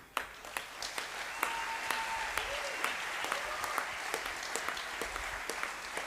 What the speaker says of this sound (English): So a big applause for our team.